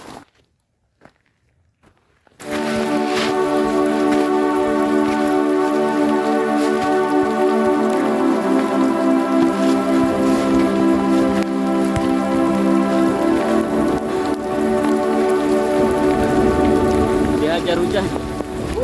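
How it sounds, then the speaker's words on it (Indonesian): Heavy rain on a Mount Guntur hiking trail pours steadily and loudly after a brief quiet start, a dense continuous roar of drops beating on a surface. "Karena hujannya semakin deras"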